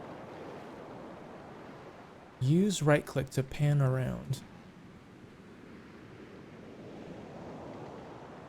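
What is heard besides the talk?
ocean waves while steering a ship in video game The Pale Beyond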